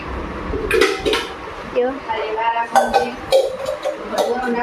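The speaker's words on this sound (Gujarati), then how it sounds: "અને દીદી વાસણ ચડાવી રહી છે" Metal pots and utensils clank and clink as they are handled and set on the stove at home during festival preparations, in short bursts under someone talking.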